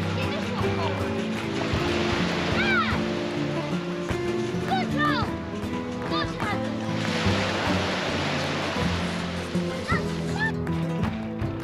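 Waves wash steadily onto a Barcelona beach in a continuous rush of surf, mixed with people talking, a dog barking and bird calls nearby.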